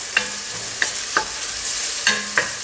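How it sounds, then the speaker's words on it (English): Chopped onion sautéing in extra virgin olive oil flavored with garlic, a loud bright steady sizzle with periodic scraping strokes of a spoon stirring the pan, close and without talk. "So to that, we're going to add our onion."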